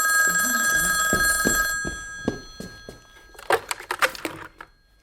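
An old telephone bell rings in bright, repeated metallic bursts, then stops; a series of soft thunks and rustling clicks follow as the handset is picked up, with no talking.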